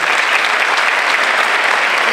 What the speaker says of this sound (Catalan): Un aplaudiment per al nostre poeta.